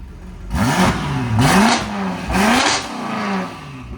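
A BMW X6M fitted with a cheap Alibaba aftermarket exhaust revs loudly in three distinct bursts, each rising and falling, with steady idle rumble between them and no talking.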